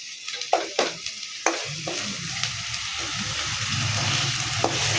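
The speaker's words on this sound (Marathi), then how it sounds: "छान तेल सुटत आहे बघा मसाल्यांचं." Masala spices frying in oil for a drumstick curry, a few sharp stirring knocks at first and then a continuous close, loud sizzle that swells steadily toward the end.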